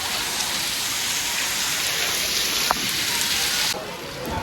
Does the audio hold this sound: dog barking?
no